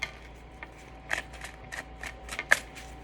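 New tarot cards, still stiff and stuck together, being shuffled in a quiet room, giving soft papery riffles and several sharper snaps at irregular intervals, close by and fairly faint, with no voices.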